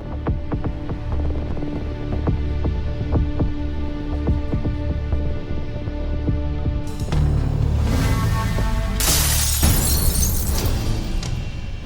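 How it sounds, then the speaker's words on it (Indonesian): Window glass of a house shatters with a sudden bright crash and scattering tinkle after a long low rumbling background, the break loud and near with no speech. "Siapa yang mecahin kaca jendela rumahku ya?"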